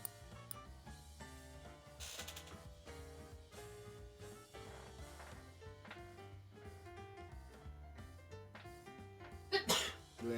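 A sneeze breaks through near the end over a steady backdrop of game music, with one sharp burst standing out at close range.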